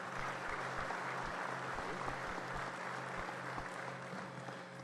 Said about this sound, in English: How about a nice round of applause for these two gentlemen?